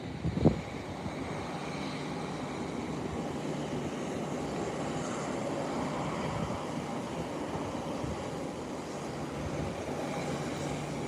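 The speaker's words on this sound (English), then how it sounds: "there you have Delta heading to the eastern part of the ramp for parking" A Delta airliner taxiing across the eastern ramp toward parking, a steady distant engine rumble and roar lasting throughout, with a brief knock near the start.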